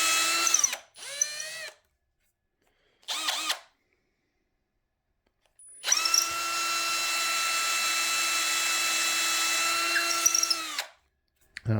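A drill with a 1/2-inch bit bores a barrel-jack hole in the body of a custom Stingray-style bass guitar. Several short whirring bursts come first, then one long steady whine for about five seconds, close and clear, with silent gaps between.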